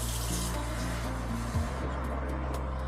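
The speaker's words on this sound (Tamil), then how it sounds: "லைட்டாக தண்ணி வந்து தெளிச்சுடணும், ஊற்றிடாதீங்க" Water sprinkled lightly over rice cooking for Bukhari chicken and rice, giving a steady close hiss over a low kitchen hum, with no voices.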